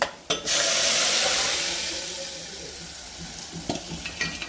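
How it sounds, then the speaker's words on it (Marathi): Besan and dill greens mixture stirred and sautéed in hot tempering, a steady close sizzle and frying hiss that starts abruptly and slowly settles, with a few scrapes of the spoon near the end. "टाकून घेतल्यानंतर याला छान अशी परतून घ्यायची हलवून घ्यायची चांगलं मिक्स करून घ्यायची"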